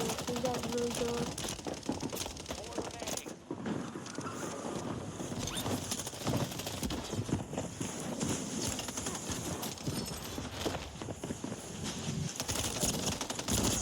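Rapid gunfire and explosions from a Call of Duty Rebirth ranked match fill the whole stretch as a dense, continuous clatter of bursts, loud and busy, with game effects layered over it.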